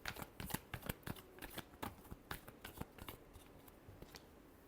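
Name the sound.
shuffling tarot cards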